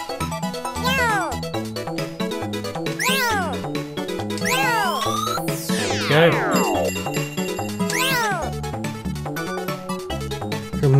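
Arcade video game audio where a cartoon kitten character meows repeatedly over bouncy chiptune music with sliding sweep effects; someone speaks briefly over the loud, continuous game sound.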